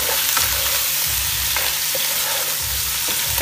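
Pieces of mutton frying in hot oil in a pan, a loud continuous sizzle with occasional stirring scrapes and clinks throughout.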